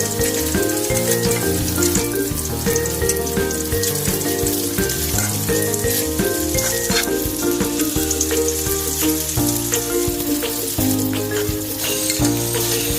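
Pempek fish cakes fry in hot oil with a steady, dense sizzle that runs the whole time under background music.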